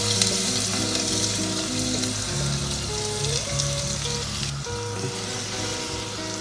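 Diced onion dropped into a couple tablespoons of hot oil in a medium sauce pot, sizzling loudly and steadily with occasional stirring, no voices over it.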